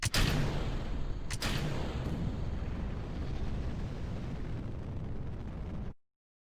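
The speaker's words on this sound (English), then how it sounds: "the New Zealand Space Agency launches another routine rocket of the Bilbo 7 in 3, 2, 1." Rocket launch in the space flight game Kerbal Space Program, a couple of sharp ignition bursts giving way to a loud, sustained roaring rumble that cuts off abruptly into silence.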